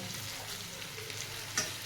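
Masala being stirred into eggplant frying in a pan, a steady close sizzle with faint scraping of the stirring over it.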